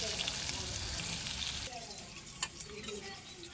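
Loud oily sizzle as turmeric-and-salt fried vegetables go into a khesari or pea lentil dal in a Bangladeshi village kitchen, a dense hiss that drops abruptly to a softer crackle, with a few faint clinks.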